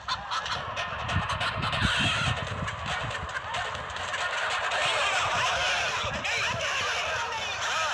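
A fighting rooster crows and clucks in bursts near the microphone, with other fowl calling around it and people talking over the birds.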